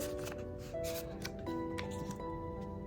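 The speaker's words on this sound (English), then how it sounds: "let's go ahead and shuffle up these punishments." A deck of tarot cards is shuffled by hand up close, a quick run of soft riffling snaps and slides repeating over about three seconds, with faint musical tones beneath.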